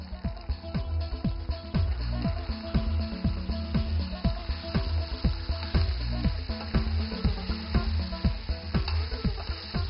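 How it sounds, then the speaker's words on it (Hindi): K&N's boti cut chicken pieces frying in a pan, a continuous loud sizzle broken by regular clinks and scrapes of a spoon stirring, with no talk. "अब आपने चिकन को थोड़ा सा भूनना है"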